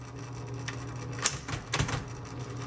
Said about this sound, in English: Lovely, lovely typewriter.